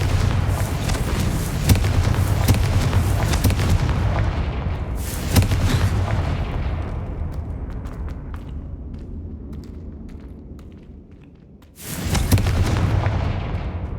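Booming explosive blast from the Confringo spell in the video game Hogwarts Legacy, a loud rumbling burst that slowly fades over several seconds, followed by a second sudden boom near the end.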